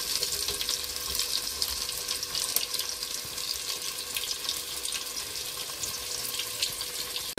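Onions frying in oil in a cooking pot give a steady, dense sizzling hiss that runs continuously at a fairly close, even level with no talking.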